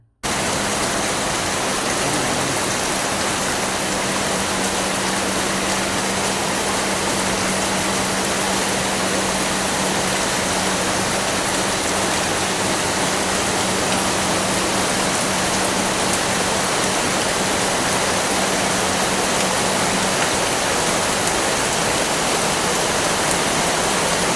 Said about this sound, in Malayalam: മഴയാണ് കിട്ടുന്നത് പുറത്തേക്ക് ഇറങ്ങാൻ പറ്റണില്ല